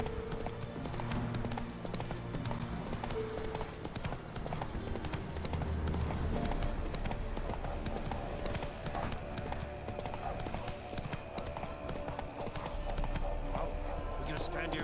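Steady clip-clop of horse hooves in The Witcher 3 plays continuously under game music and spoken dialogue, the rhythmic hoofbeats running throughout.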